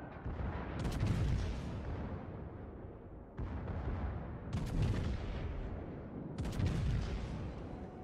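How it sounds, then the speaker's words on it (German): Heavy gunfire and blasts in a video game, three big booming shots spaced about three seconds apart over a constant loud rumbling battle din, with no talk. "Natürlich schieße ich da rein."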